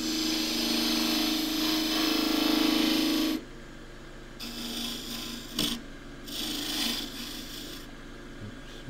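A half-inch spindle gouge makes a peeling cut on wood spinning on a lathe. A loud, close rasping scrape runs steadily, then breaks into shorter, quieter cuts separated by pauses.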